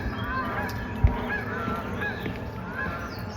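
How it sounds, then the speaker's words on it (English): Geese honking as they fly over a wetland park in summer, several clear calls spaced about a second apart, fairly close above a steady outdoor background. "Some geese flying."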